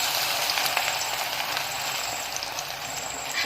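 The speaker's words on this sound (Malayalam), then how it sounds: "ഡീപ്പ് ഫ്രൈ ആണ് കേട്ടോ നമ്മൾ ചെയ്യുന്നത്." Masala-coated beef deep frying in coconut oil, a steady loud broadband sizzle and hiss running unbroken throughout with no talk.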